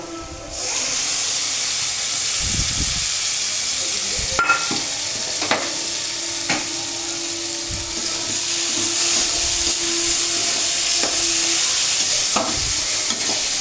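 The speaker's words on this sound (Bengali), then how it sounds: "মশলাটা দিয়ে আমি মশলাটাকে আলুর সাথে খুব ভালোভাবে মিশিয়ে কষিয়ে নেব।" Potatoes fry with cumin and chili powder in a pan, giving a loud, continuous sizzle. A spoon stirs now and then, adding sharp scraping clinks and knocks over the frying.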